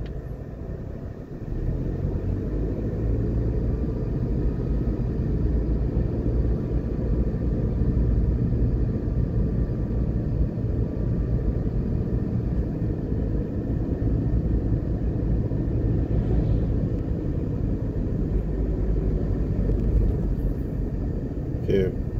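Steady low rumble of a car driving along a finished road in Jamaica, a continuous engine and tyre drone heard from inside, holding even for over twenty seconds with no break.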